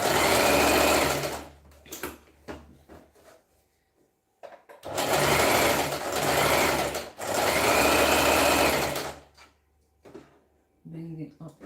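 A sewing machine stitches fabric in three loud, close runs of steady whirring, separated by quiet pauses with light handling clatter.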